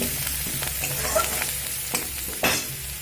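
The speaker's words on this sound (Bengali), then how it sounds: "এখানে আমি কিছুটা পরিমাণে ধনে পাতা কুচি দিয়ে দেব দিয়ে আর অল্প একটু নাড়াচাড়া করে নেব" A fried spice mix with chopped coriander leaves sizzles in a pan for chilli chops while it is stirred in short scraping strokes, with a few sharper knocks. The sound is close and has no talk over it.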